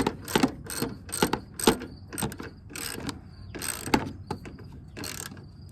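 A hand ratchet tightens bracket bolts for the front bumper of a Subaru Crosstrek, giving bursts of rapid clicking in a stop-start rhythm, close and crisp, with short pauses between strokes.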